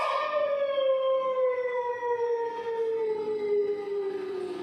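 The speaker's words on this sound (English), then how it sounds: "when the moon is full, you can hear him howl loudly and fiercely to his heart's content" A single long wolf howl, loud and steady, slowly falls in pitch for several seconds and carries clear harmonics, with nothing else heard.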